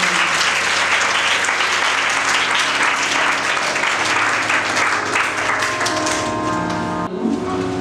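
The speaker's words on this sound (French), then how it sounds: "On acclame très fort le Seigneur." A church congregation claps loudly and steadily at a worship service, dense sustained applause filling the room throughout with no speech over it.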